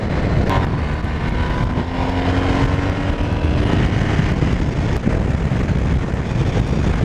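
A 2019 BMW R1250RS motorcycle is ridden at speed, its engine a steady droning roar blended with heavy wind rush, with a brief rising tone as the revs shift.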